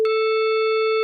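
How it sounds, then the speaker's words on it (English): A sine wave generated in Pure Data rings as a single steady electronic tone, loud and unchanging for about a second, alone with no other sound. "That's the sine wave."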